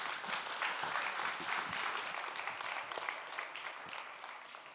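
An audience at a forum applauds the director of the EU Agency for Fundamental Rights, a full, continuous wash of clapping that holds steady and then slowly tapers toward the end, with no talk over it.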